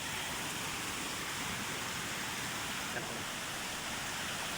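Rushing water of a powerful river current near a waterfall at a bathing spot in Calauan, a loud unbroken broadband roar heard from above that stays constant throughout.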